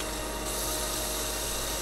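A saw trap in the game Ethan Meteor Hunter gives off a continuous grinding, whirring mechanical buzz, steady and dense throughout, like a spinning blade running constantly.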